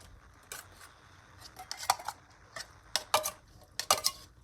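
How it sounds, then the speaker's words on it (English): A spoon scrapes and clinks against a bowl as crab meat is stirred into a shrimp seafood stuffing, giving irregular sharp taps and scrapes in quick clusters, close and fairly quiet. "Now we're going to go ahead and add in our crab meat"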